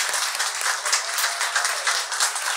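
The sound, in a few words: congregation applauding fathers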